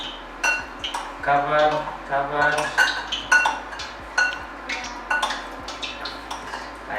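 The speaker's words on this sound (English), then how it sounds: "then to the breadcrumbs, mix with the other spoon" A spoon scrapes and clinks against a bowl while scotch eggs are rolled in breadcrumbs, giving bright repeated taps and rattles in an uneven rhythm, close up. A voice speaks over it.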